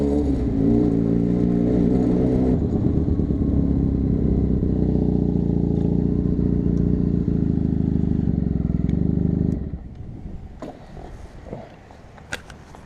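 A Benelli TnT300 two-cylinder motorcycle engine revs loudly and steadily close by for about nine seconds, then drops back to a rough, uneven idle with a few sharp clicks near the end.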